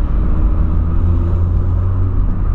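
Volkswagen Polo with a newly fitted exhaust, revving steadily: a loud, continuous low engine rumble held close by for the whole stretch, with no talk over it.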